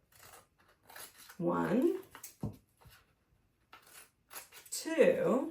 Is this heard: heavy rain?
no